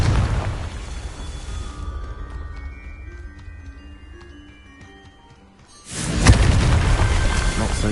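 Confringo blasting spell in Hogwarts Legacy going off as a loud, deep explosive boom, then fading into a quieter stretch before a second heavy blast bursts in near the end.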